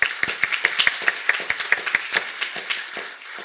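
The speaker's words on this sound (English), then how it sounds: "let's give them a nice round of applause" An audience at a lecture claps in a brisk, uneven patter of many hands that thins out toward the end, fairly loud and close, with no speech on top.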